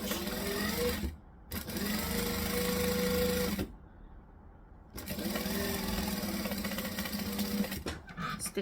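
Sewing machine stitching and back stitching along the seam of a fabric bag: a loud, close, steady mechanical whir that stops briefly, then runs again in a second long burst.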